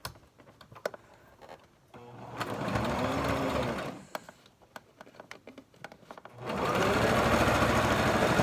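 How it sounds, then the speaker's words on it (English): A sewing machine stitches down pleats on a fabric face mask in short runs, a quiet rapid patter that stops and starts with light handling noises in the pauses. "So now I'm going to get back up here on my machine, and I'm going to stitch these down."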